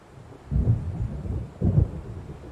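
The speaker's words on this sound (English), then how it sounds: "It seems there's a storm coming" Rolling thunder from an approaching storm in Alan Wake Remastered, two deep low rumbles about a second apart over a quiet background, no voices.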